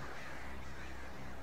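Crows cawing inside the video game Alan Wake, heard as a faint, steady, noisy wash of bird calls with no voices over it.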